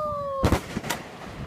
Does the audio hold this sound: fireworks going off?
yes